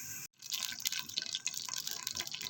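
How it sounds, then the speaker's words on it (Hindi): A glass of water is poured onto dark-browned onions in a cooking pan, starting with a brief gap, then splashing and sizzling with drips and bubbling hiss. "अब हम इसमें 1 गिलास पानी ऐड करेंगे"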